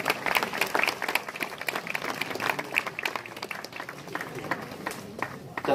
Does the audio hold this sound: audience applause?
yes